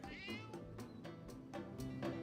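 Cat meowing in the video game Divinity Original Sin: a clear, close meow opening with a rising, harmonic-rich cry, followed by softer vocal sounds, with no talk over it.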